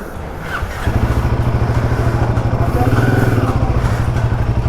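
Royal Enfield Himalayan 450 motorcycle riding off with a steady, loud single-cylinder engine thrum that jumps up after a brief idle and holds a pulsing rhythm throughout.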